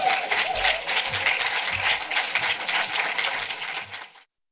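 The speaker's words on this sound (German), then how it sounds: "bitte einen großen Applaus für Michael Haneke" An audience at a book presentation and talk in Frankfurt gives sustained, dense applause with scattered individual claps, steady for about four seconds before cutting off abruptly.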